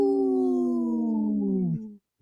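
A single wolf howl, one long, clear sustained note that slowly drifts lower over about two seconds before cutting off, loud and close.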